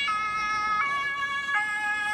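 An emergency vehicle siren wails on a city street in Berlin, its rising and falling tone repeating clearly over faint traffic rumble, with no talking.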